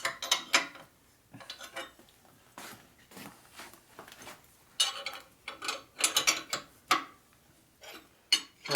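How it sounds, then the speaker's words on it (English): A wrench or ratchet tightening a bolt during a Harley-Davidson FXR broken exhaust stud repair, with a string of short metallic clicking and ratcheting bursts separated by pauses, close and fairly quiet. "so you just tighten the back side."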